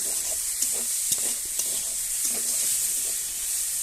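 Cooked rice fries in a wok whose water has dried off, the grains starting to stick to the pan: a steady close sizzle with scraping stirring strokes throughout and no talking.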